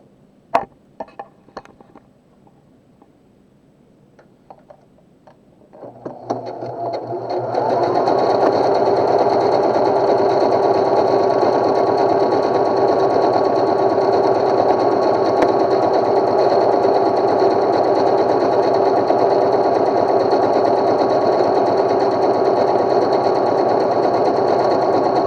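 A Pfaff Smarter 160s sewing machine stitches an automatic buttonhole, starting after a few quiet clicks and then running as a steady, close, continuous whir for nearly twenty seconds without pause.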